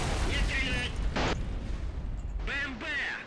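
Gunfire and explosions from the combat game Operation Flashpoint: Cold War Crisis, with a loud burst of shots or a blast and a later boom. Game voices shout over the fighting throughout.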